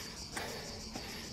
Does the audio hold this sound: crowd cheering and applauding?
no